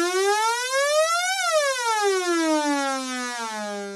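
Waldorf Iridium synthesizer with the modulation wheel cranked, producing a single bright, harmonically rich sustained tone whose pitch sweeps up, then glides back down and settles, loud and alone.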